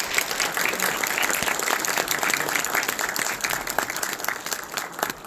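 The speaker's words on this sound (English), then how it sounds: "how about a round of applause for" Steady audience applause at a congressional district candidate forum in a high school, dense clapping held evenly throughout and slowly thinning toward the end.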